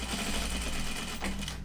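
A sewing machine edge-stitching fabric runs in a fast, steady, close mechanical patter for a brief stretch, then slows near the end.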